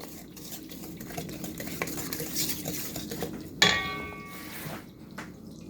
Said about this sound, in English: One cup of Domino's granulated sugar. And I'm going to whisk that into it.